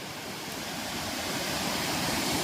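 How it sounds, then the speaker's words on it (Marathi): Water pours over a large dam in a steady, broad rushing roar, faint and distant at first and slowly growing louder, with no voices. "इथंच मोठं डॅम आहे आणि त्याच्यामधनं पाणी पडतंय"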